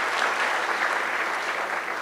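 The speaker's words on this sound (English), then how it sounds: "Can we please give them another round of applause?" An audience at an energy sector conference applauds in a dense, even burst of clapping that fills the hall briefly, with no talking.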